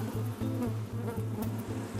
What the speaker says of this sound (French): on voit très bien les abeilles qui sont en train de fabriquer le miel